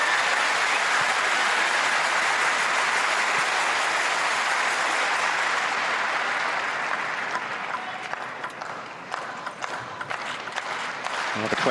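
A table tennis crowd at a women's doubles match, Fang Bo and Petrissa Solja against Kasumi Ishikawa and Maharu Yoshimura, claps in sustained applause that fills the hall, then thins and scatters toward the end.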